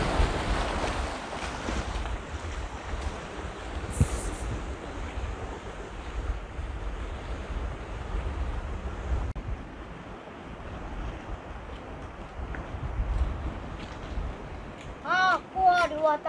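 Ocean waves surge and wash along a shore under steady, buffeting wind noise on the microphone, a continuous broadband roar with a brief brighter chirp near the end.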